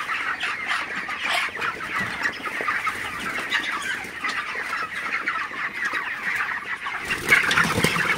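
A dense flock of 27-day-old broiler chickens on a farm clucking and chattering continuously, close by, with a louder burst of activity near the end and no speech.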